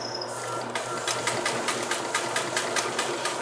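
Singer 16-188 industrial sewing machine stitching through two layers of hide, a rapid, even mechanical clatter of needle strokes repeating steadily, close and fairly loud with no talk.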